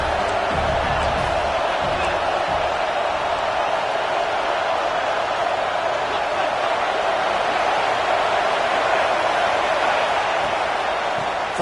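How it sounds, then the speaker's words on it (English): Stadium crowd noise in an American football video game, a steady broad roar that runs loud and unbroken throughout, with no distinct applause bursts standing out. "This crowd knows when to bring it."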